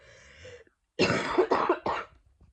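After a brief throaty sound, a person coughs harshly three times in quick succession, close to the listener.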